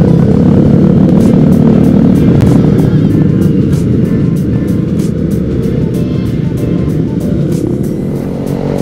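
A group of motorcycles on a Sunday-morning ride near Lembang, Bandung, heading the same way, giving a dense, steady engine drone close by with wind buffeting throughout and no talk.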